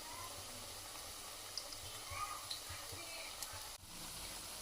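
Onion bajji fry in hot oil with a continuous soft sizzle and fine crackling bubbles, close and fairly quiet, with a brief rustle of stirring near the end.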